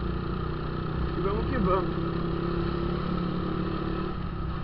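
A small 50cc motorcycle engine runs at a steady idle, a close buzzing drone with a brief rev partway through, while someone speaks over it.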